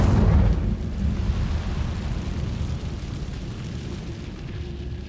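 Incendio fire spell cast in Hogwarts Legacy, a loud fiery burst at the start settling into a sustained low roaring rumble of flames that continues to the end.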